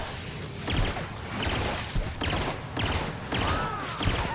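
Repeated bursts of gunfire from a firefight in the video game The Outer Worlds, a steady string of shots and impacts at fairly even loudness running through the whole stretch.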